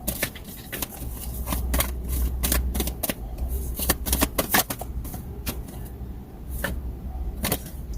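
Tarot cards being shuffled by hand, a quiet, rapid run of crisp riffling snaps and soft flaps that come in uneven bursts across several seconds, close and alone.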